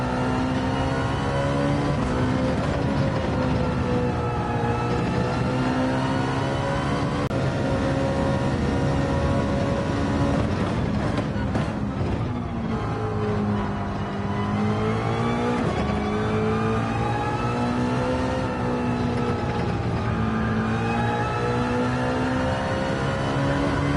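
A race car engine in a racing game at Barcelona holds a loud, continuous whine that rises and dips as it accelerates and eases off through corners, alone with no talk.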